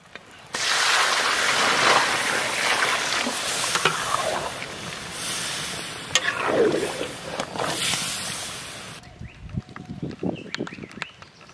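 Water pours into a hot pot of kabuli chana curry in a steady, loud rush with sizzling for about eight seconds. Scattered clinks and small handling noises follow once the pouring stops.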